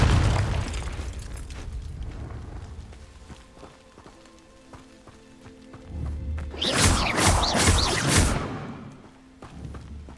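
Confringo blasting-spell explosion in the video game Hogwarts Legacy: a burst of booming, crackling blasts in the middle, loud and close, with lighter thumps and footsteps before and after.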